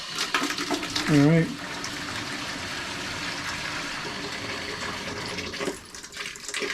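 Water rushes steadily from a water heater's relief valve into a bucket while the heater's pressure is eased, a continuous hiss with a brief spoken remark.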